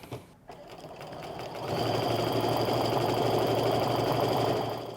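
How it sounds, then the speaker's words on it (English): A sewing machine stitches a seam on a lined pull-on skirt at a 5/8 seam allowance. After a brief quiet start, a steady, close mechanical whir runs continuously to the end. "So just line it up to the 5/8 and start sewing."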